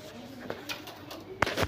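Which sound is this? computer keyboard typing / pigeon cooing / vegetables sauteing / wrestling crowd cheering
pigeon cooing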